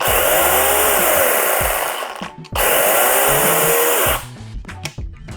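A Procraft corded electric chainsaw starts with a loud, high whine, runs for about two seconds, stops, then starts and runs again before winding down with faint clatters.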